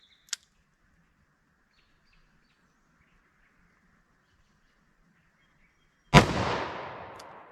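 Two sharp gunshots from a 2-inch barrel .357 Magnum revolver firing Winchester 110 gr loads, a faint distant crack first, then a loud close blast with a long ringing decay, quiet outdoor ambience between.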